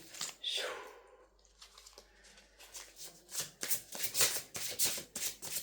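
Oracle cards are shuffled by hand before one is drawn, with a rapid run of close, crisp riffling flutters building up near the end and quiet movement before it.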